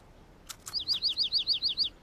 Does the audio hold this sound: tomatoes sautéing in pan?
no